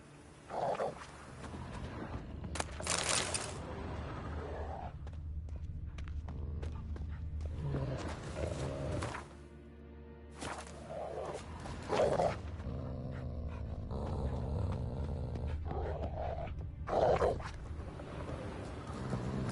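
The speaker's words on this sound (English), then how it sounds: "Just beware of the dogs." Dogs growl and snarl in a video game, with several loud bursts of aggressive, roaring vocalizations separated by quieter stretches of ambient sound and faint thuds.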